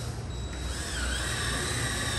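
A power drill drives self-tapping decking screws into heavy-duty workshop shelving, a continuous high-pitched whirring motor with a faint gritty bite, fairly quiet and steady throughout.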